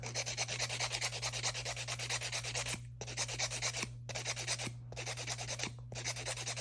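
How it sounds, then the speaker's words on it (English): A nail file rasps back and forth across a set of press-on nails in quick, steady rhythmic strokes, close and soft, broken by four short pauses, with a faint constant hum underneath. "I'm gonna go back in with the file really quickly before I go in with the sanding bits"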